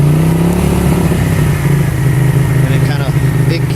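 A Honda CX500 motorcycle engine runs steadily and loud close by, with throttle blips raising its mid-range drone while a voice talks over it.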